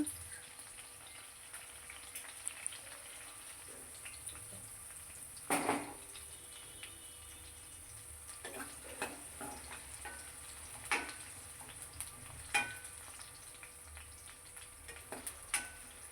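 Green chillies fry in oil in a pan for an ivy gourd chutney. A quiet, steady sizzle continues throughout, broken by a few sharper crackles and pops.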